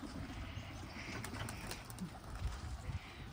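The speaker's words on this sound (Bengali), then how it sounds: "এই যে কত কবুতর উপরে" Pigeons cooing on a rooftop of a house, soft low coos faint under outdoor ambience, with a little chirping and light wing flutter.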